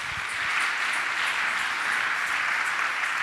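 A church congregation applauds with a dense, steady wash of clapping that holds at an even level from start to finish.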